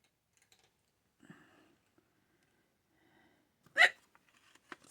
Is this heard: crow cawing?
no